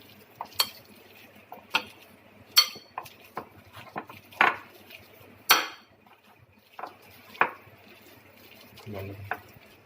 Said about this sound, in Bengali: আমি মাছটা এর মধ্যে রাখলাম, এর সাথে আমি অ্যাড করলাম আলুটা। এবার আমাকে এই দুটোকে ভালো করে একটু মেখে নিতে হবে একসাথে।